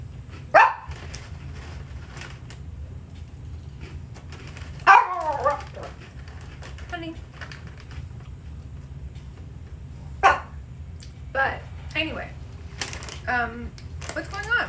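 A pet dog named Jack barks in sharp, scattered bursts at someone it thinks is outside, indoors over a low steady hum with quiet talk in between.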